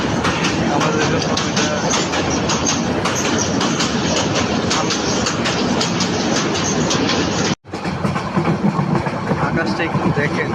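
A passenger train runs along the tracks on the route to Cox's Bazar, a loud continuous rumble with rhythmic clatter and some metallic squeal, briefly dropping out before resuming.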